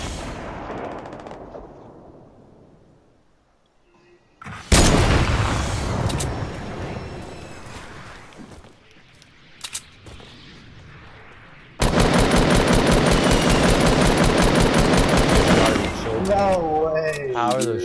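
P90 submachine gun fire in Fortnite: an opening burst of shots, a quieter stretch, then a loud, sustained rapid-fire burst lasting several seconds with evenly spaced cracks, set against game effects.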